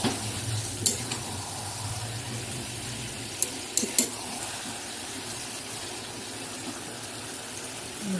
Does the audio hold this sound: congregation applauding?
no